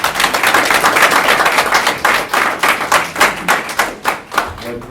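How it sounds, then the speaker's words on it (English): Steady audience applause at a mentorship program graduation ceremony, many hands clapping continuously at a loud, close level, thinning slightly toward the end. "let's give the participants a huge round of applause"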